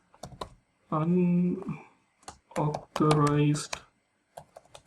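Sharp, crisp keystrokes on a computer keyboard tap out in quick clusters around someone speaking, clear and close between his words.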